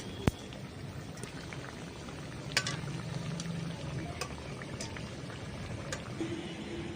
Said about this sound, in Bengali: কিন্তু এখানে অল্প অল্প করে দিয়ে আমি ভেজে নেব